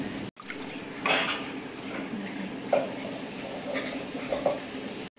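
Rice and lentils being washed in water in a bowl make soft swishing and sloshing with a few faint clinks and drips, quiet and close, with no talking.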